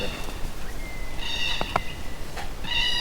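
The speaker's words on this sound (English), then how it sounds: "You can listen to the birds." Birds sing in a quiet, cold forest: short, high whistled phrases come in scattered bursts, faint and somewhat distant, over a soft hush of background air.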